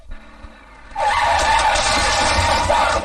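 A car skids with a loud, sustained tire screech and then roars away, the noise rising sharply after a quieter opening second and staying loud to the end.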